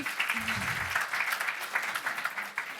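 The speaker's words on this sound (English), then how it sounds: "Can we give him a round of applause?" An audience applauds for a speaker named David at a talk, with steady, moderately loud clapping throughout and a brief low voice early on.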